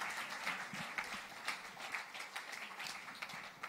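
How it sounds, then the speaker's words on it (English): Steady applause from an audience at an award ceremony, a faint, continuous patter of many hands clapping for several seconds with no voices over it. "Big round of applause for her"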